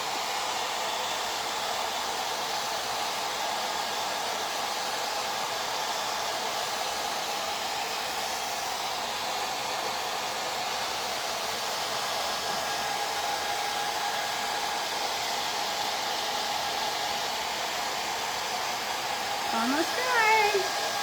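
Hair dryer blowing steadily at close range to dry chalk paint on a small Christmas tiered tray, a continuous loud whoosh lasting the whole stretch, briefly shifting in tone near the end.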